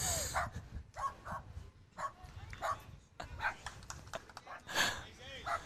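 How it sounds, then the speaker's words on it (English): Ovo the dog yips and barks repeatedly in the background at a lawn bowls tournament, a string of short, uneven barks. A commentator talks steadily over them. "So we've got Barry Lester's dog Ovo in the background."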